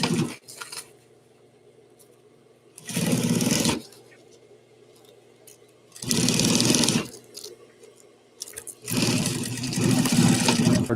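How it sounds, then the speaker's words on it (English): A sewing machine stitching Velcro onto fabric in three sustained bursts of whirring, rattling motor noise, close and loud, separated by quieter pauses with faint background hum. "you could just sew this over and then sew your Velcro on"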